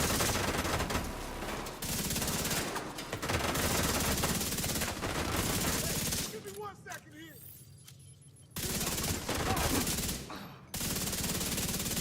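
Heavy automatic gunfire in The Division 2 in long, loud continuous bursts, broken by a short lull with faint voices before the shooting resumes.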